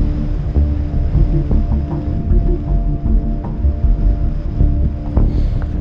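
Wind gusts across a mountain summit in the Scottish Highlands, a steady, loud rumbling roar buffeting the microphone throughout, with no talk.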